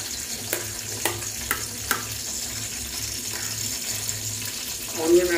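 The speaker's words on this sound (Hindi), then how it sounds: "ऑयल गर्म हो चुका है इसमें सबसे पहले ऑनियन" Onions sizzle in hot oil in a pan for mutton biryani, a steady quiet frying hiss with a few light clicks of stirring, no talk, and a louder burst of sizzling at the end.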